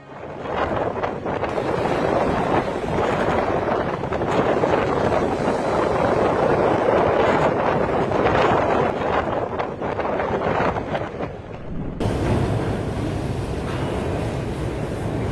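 Strong storm wind and pounding waves during Storm Atia, a constant loud roar of gusting wind buffeting the microphone with surf surging underneath throughout.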